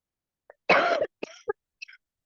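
One harsh, loud cough followed by a few shorter throat-clearing coughs, close up and alone.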